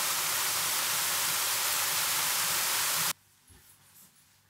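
Mountain water rushes down a slope in northern Italy with a loud, continuous roar that cuts off abruptly after about three seconds, leaving a quiet background.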